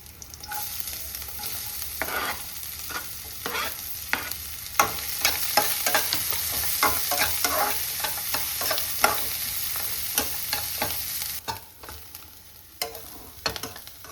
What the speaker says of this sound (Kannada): ಸೊ ಆನಿಯನ್ ಚೆನ್ನಾಗಿ ಫ್ರೈ ಆಗಿದೆ